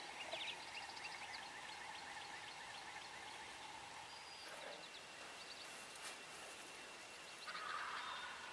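Wild turkey gobbles from a group of bearded birds during spring turkey season, faint and distant, several calls over a quiet outdoor background, with one louder burst near the end.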